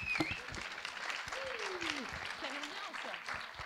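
Audience applause at a science talk event at the Institut Henri Poincaré, a brief, moderate spatter of clapping with voices speaking over it.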